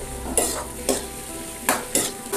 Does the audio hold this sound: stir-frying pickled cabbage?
yes